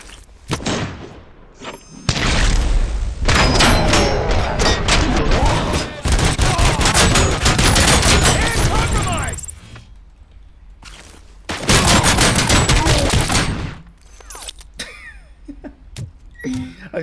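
Bursts of rapid gunfire ring out in the shooter game Corporate Takeover. Several long, loud volleys are separated by short quiet gaps, with thuds and booms mixed in.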